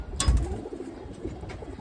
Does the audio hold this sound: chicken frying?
no